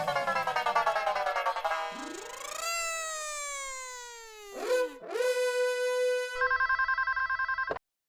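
A telephone ringing with a warbling, sliding electronic ringtone followed by a steady pulsing ring that cuts off abruptly, loud and close, with no talking.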